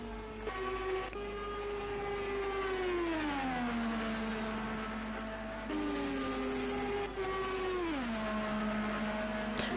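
IndyCar race car engine at an Indy 250 race, a sustained loud engine drone that rises and falls in pitch as it shifts and passes, heard continuously with no talk.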